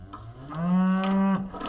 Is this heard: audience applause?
no